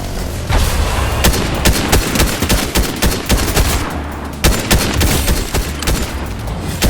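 Rapid gunfire in Fortnite, dense bursts of loud close shots fired in quick irregular volleys almost continuously, with heavier booms mixed in.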